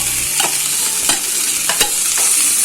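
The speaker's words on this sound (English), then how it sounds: "Just saute it for some time." Peas and mashed potato with golden onions sauté in a pan, a steady hiss of frying with several distinct scraping stirs of a spoon, close and continuous, no voices.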